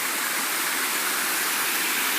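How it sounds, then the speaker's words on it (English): Waterfall in the Tennessee mountains, a dense, even roar of cascading water that fills the whole moment, loud and constant with no talking. "here is a waterfall"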